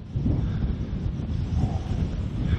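Steady, heavy wind buffeting the microphone on a golf course at The Point, Polzeath, with a constant low rumble, no voices, lasting throughout.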